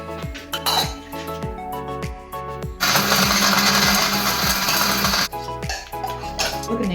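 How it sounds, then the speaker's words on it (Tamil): A mixer grinder blends dates, oats and sesame for chocolate energy bites. A few light clinks come first, then a loud, steady whirring roar runs for about two and a half seconds and cuts off, followed by more clinking. "ஸோ நான் பொடிக்க போகிறேன். நான் டேட்ஸை போடுறேன். நல்லாவே பிளெண்ட் ஆயாச்சு."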